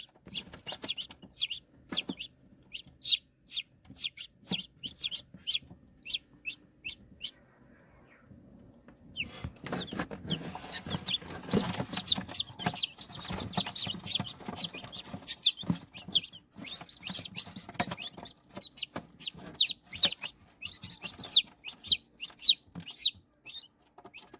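Chickens cluck in short, repeated bursts close by beside eggs that are hatching, with a denser stretch of soft clucking and rustling partway through, and no talking.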